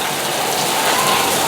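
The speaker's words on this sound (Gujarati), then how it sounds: "જોરદાર વરસાદ આવે છે" Heavy rain pouring down steadily, a dense, loud, even hiss of drops on surfaces with no pauses and no voices.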